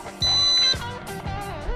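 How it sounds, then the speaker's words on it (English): A single steady electronic beep from an RC helicopter's radio transmitter while its gyros are calibrated, clear and held for about half a second over light background noise. "The radio emits a beep, the LEDs on the helicopter start flashing and then stop."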